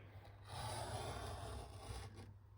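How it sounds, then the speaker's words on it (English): A paper trimmer blade drawn about halfway across a 12x12 sheet of paper, a faint, close, soft rasping slide lasting under two seconds. "I'm just going to bring my trimmer up about halfway"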